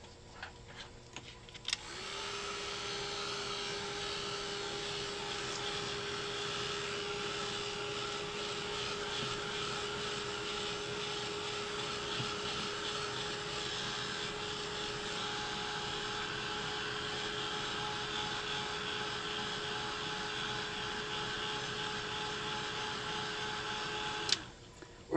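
An electric dryer drying watercolor and Gelatos paint gives a steady, close whirring hum with a constant tone. It switches on, runs evenly for about twenty seconds, then clicks off.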